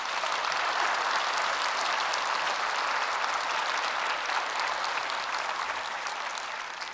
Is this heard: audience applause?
yes